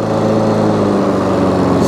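A Hayter 56 Pro lawn mower engine runs loud and close just after a restart, holding a steady droning hum with no change in pitch and no voices.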